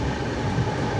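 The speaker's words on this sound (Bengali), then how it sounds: "আমাদের ট্রেন ফরেস্টের বুক চিরে, পাহাড়ের বুক চিরে এগিয়ে যাচ্ছে" The 18047 Amravati Express rolls through forest in the Western Ghats hills, a loud steady rumble and rattle of the carriages heard from inside the moving train.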